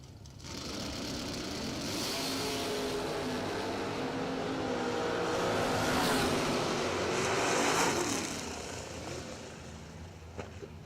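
Drag racing at a doorslammer nationals event: a Camaro and a Chevy II roar past at a distance, a sustained engine blare swelling toward the middle and then fading, with no talk.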